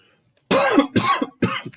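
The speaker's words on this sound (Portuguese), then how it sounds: "Uma tosse aqui no meio." Three harsh coughs in quick succession, close to the listener, each a loud broadband burst with brief pauses between them.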